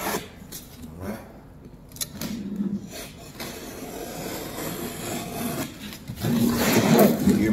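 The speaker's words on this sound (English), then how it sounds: "I'm gonna cut it with the blade" A utility blade slicing through drywall to cut out a knockout, giving a close, dry rasping scrape in uneven strokes with short pauses, growing louder and coarser near the end.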